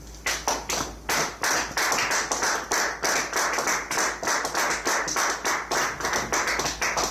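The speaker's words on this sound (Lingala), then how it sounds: "Acclamons notre Seigneur Jésus-Christ." A church congregation claps in steady rhythmic unison, acclaiming Jesus Christ during a service, the sharp regular claps filling the room without speech.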